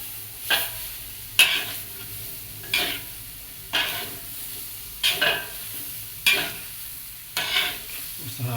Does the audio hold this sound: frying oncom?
yes